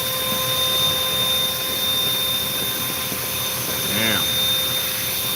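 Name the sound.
vacuum sucking up bees for pest removal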